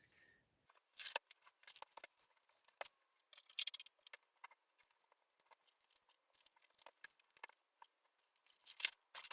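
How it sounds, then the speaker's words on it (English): Scissors snip through bedsheet fabric for a dress's main body, giving a steady run of crisp, close cuts of uneven spacing against a quiet room. "What we're going to start with is actually cutting out the main body of the dress."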